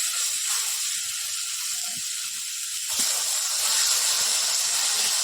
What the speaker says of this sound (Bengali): এইভাবে মশলাটা কষানো হবে